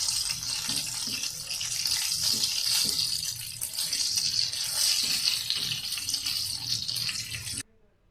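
A whole rohu fish fries in hot oil with a steady, dense sizzle that continues without a break and then cuts off abruptly near the end.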